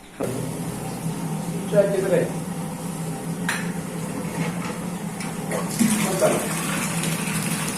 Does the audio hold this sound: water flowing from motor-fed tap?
yes